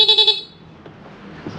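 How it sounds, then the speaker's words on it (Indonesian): A Honda Supra X 125 motorcycle horn, fitted with a 12-volt interrupter relay, blares in a rapid, stuttering pulse of short bursts, then cuts off, leaving faint background noise. "Nah ini relay buat klakson lu putus-putus tuh."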